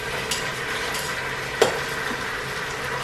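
Oxtails sauté in a hot Instant Pot with a steady close sizzle, broken by a couple of utensil clinks and a louder scrape as the meat is stirred.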